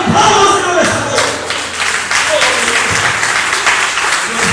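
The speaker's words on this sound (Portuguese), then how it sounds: "aplauda o Senhor nesta noite." A church congregation claps loudly during an evening service, a dense, continuous wash of applause close by with voices and cheers mixed through it.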